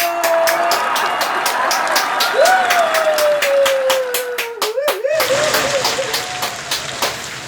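Dense clapping from a crowd at a health exercise class runs steadily throughout, with a tone sliding underneath and a brief louder burst near the end.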